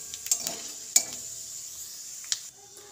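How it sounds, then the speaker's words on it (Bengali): Whole cloves, cardamom, dried red chillies and cumin seeds frying in oil for a potato dum, a steady close sizzle broken by a few sharp clinks of a spoon stirring the pan. "ফোড়নটা আমি ভেজে নেব।"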